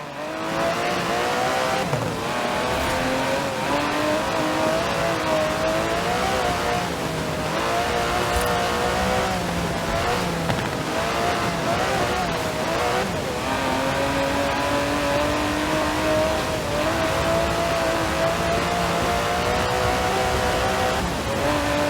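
An Aston Martin DB11's 5.2-litre twin-turbo V12 revs and roars continuously in the game Forza Horizon 4, pitch climbing and dropping through gear changes, loud and close throughout.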